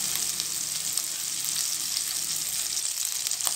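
Tomato frying in oil in a pan for a Bengali fish-head and bottle gourd ghonto, a steady, fairly loud hissing sizzle with a few faint stirring ticks and no voices.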